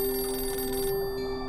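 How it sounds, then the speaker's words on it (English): A telephone rings with a steady electronic bell tone, loud and close, in one continuous burst that cuts off partway through and then carries on more faintly. "when the phone rang"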